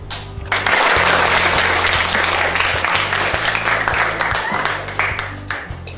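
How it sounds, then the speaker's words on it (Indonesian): Classroom of high school geography students applauding a group's presentation, sustained clapping from the whole class that starts abruptly and holds steady for several seconds before thinning out at the end. "Kita berikan aplaus untuk teman-teman kita yang sudah presentasi"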